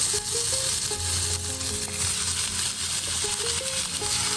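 Food sears in a lightly oiled pan at a coastal Oregon campsite, giving a steady close sizzle with a few faint clinks over it.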